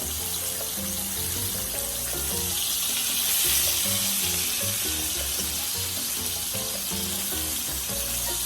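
Pork chops sizzle steadily in a hot pan, a close, continuous crackling hiss with no talking.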